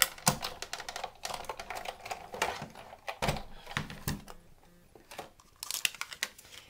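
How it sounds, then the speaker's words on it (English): A Big Shot die-cutting machine cranks cardstock through under a standard cutting pad, giving a close run of irregular clicking, crinkling and grinding bursts with no talk. "just run it through my Big Shot with the top standard cutting pad on top of it"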